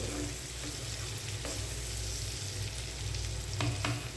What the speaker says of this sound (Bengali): চিংড়িগুলো আমার ভাজা হয়ে গেছে